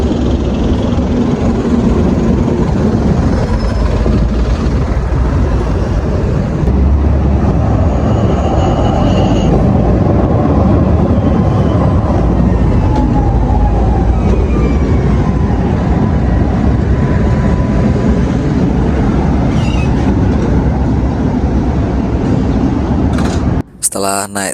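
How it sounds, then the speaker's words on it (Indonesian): A loud, continuous low rumble of a tram rolling past on a busy city street in Istanbul, with a voice speaking over the noise. "ini tram, ini transportasi yang udah langka mungkin sekarang ya"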